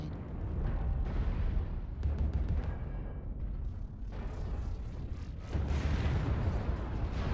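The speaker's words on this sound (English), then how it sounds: "I think one of the heavy PPCs just smacked into the building." Heavy PPC weapon fire and impacts in the mech combat game MechWarrior Online, a dense run of booming blasts and rumbling hits that continues throughout, with louder bursts near the start and end.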